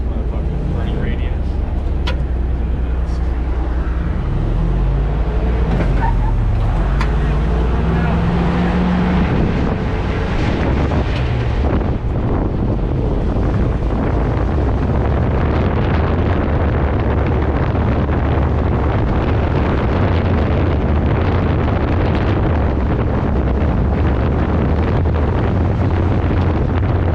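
A 55-year-old farm truck with an upgraded Mopar 361 engine drives along, its loud engine rumble mixed with heavy wind buffeting on the microphone, and a voice talking early on.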